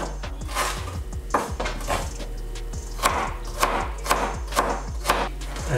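A knife slices ginger and onion on a board, a rapid run of close, sharp taps in an uneven rhythm over a low steady hum.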